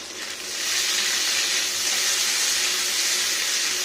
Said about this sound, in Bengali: আদা আলু আর চিনি একসাথে ভেজে নিচ্ছি সুন্দর করে